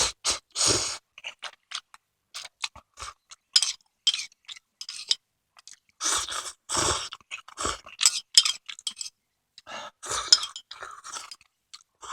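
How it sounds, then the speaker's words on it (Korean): Someone chewing microwave-cooked ramen noodles close up, with repeated soft slurps and crunchy bites in irregular bursts and short pauses between mouthfuls, and no talking. "일단 라면을 한번 먹어볼게요"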